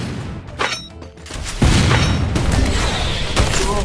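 A grenade blast in a battle video game lands as a loud, close boom about one and a half seconds in, its heavy rumble sustained to the end over game noise.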